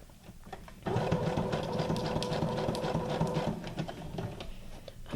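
Sewing machine stitching journal cards made from guest checks, a steady close mechanical whir and patter running for several seconds without pause.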